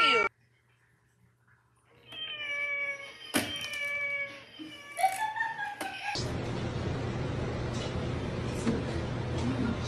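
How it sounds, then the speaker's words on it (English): A cat meows several times in clear, tonal calls, close by, followed by a louder stretch of broad background noise. "This is a cat."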